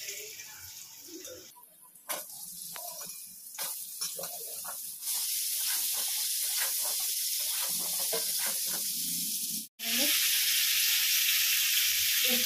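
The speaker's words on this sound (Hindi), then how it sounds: "अब इसे हम फ्राई करेंगे।" Potatoes sizzle in a pan of hot oil while cooking alo patal sabji, a steady broadband hiss that jumps louder midway, breaks off briefly, then returns with scattered pops and clinks.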